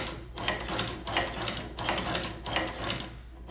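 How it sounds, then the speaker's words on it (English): A Muyupai leather patcher sewing machine stitches in several short bursts with brief pauses between, a close, steady mechanical chatter with no talking. "you should then be able to get your sewing"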